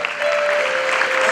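Brief burst of audience applause at a school graduation ceremony, dense steady clapping with a faint tonal hum underneath.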